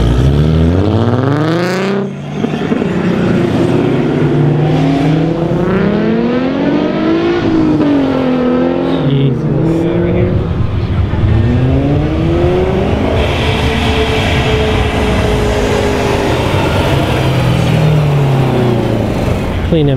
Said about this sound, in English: A couple more Porsches coming down.